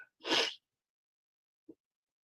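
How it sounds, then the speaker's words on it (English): A single sharp sneeze, close and fairly loud, followed by a short faint sound and then silence. "Been sneezing."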